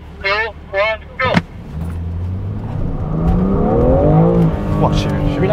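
BMW M car on a driving course at an experience day in Singapore, engine pulling hard as it accelerates with a rising tone, close and loud, while an instructor talks over it throughout.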